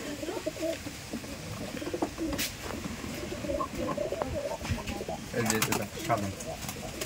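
Giribaz pigeons coo repeatedly in the background at a pigeon farm while people talk nearby, with occasional faint chirps mixed in.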